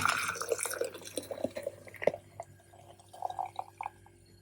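Frothy cocoa matcha drink poured into a teapot, with soft drips, splashes and gurgles in short uneven bursts, close and fairly quiet with no talking.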